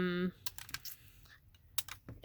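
Crayons cut into small chunks with garden shears make a series of sharp clicks and snaps, several quick cuts in irregular rhythm, close and crisp, after a short tone at the start.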